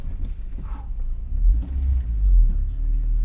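A car on an oval track throttles out of a turn with a deep, continuous engine rumble that swells and holds steady, close and fairly loud throughout.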